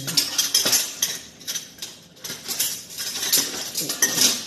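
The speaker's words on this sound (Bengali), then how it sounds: "চামচটা নিয়ে, চামচটা দিয়ে ঘি তুলে দিই নিচে" A metal spoon scooping ghee from a container, producing repeated close scrapes and light clinks against the sides in an uneven rhythm, clear and fairly loud with no talk.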